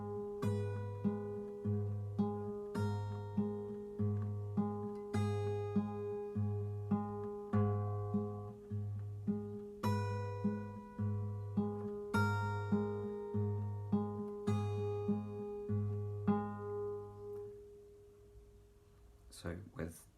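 Fingerpicked acoustic guitar melody, steady plucked notes over a repeating bass pattern, close and clear, played alone with no talking, fading on a final strum.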